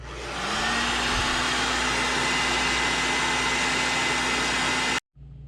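Heat gun heat-setting mesh wrap, a steady loud blowing whoosh with a rising fan whine, cutting off abruptly near the end.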